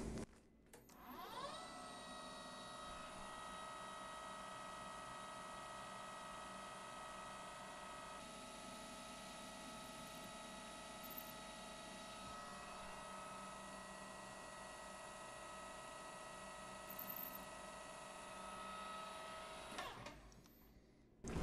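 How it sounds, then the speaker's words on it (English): A lathe cuts a tiny chamfer on a small metal BNC-style connector part, giving a steady motor whine with tonal hum that runs almost the whole time, fairly faint and close, with no talk. "Tiny chamfer tool."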